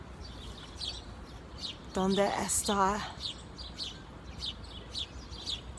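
A little sparrow chirps outdoors among garden shrubs, giving a string of quick, high, regular tweets, with a person speaking briefly over them.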